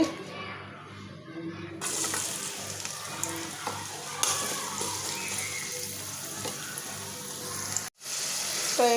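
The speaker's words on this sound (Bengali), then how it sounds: "তেলটা গরম হইলে দিয়ে দিব পেঁয়াজ" Onion hitting hot oil in a pan, giving a loud, steady crackling sizzle that carries on throughout with a brief dip near the end, as a fish and chalta curry gets started.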